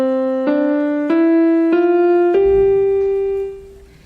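Five notes on a keyboard climb stepwise from C up to G with the right hand during a beginner piano lesson, each held briefly and evenly spaced, the last note sustained before fading.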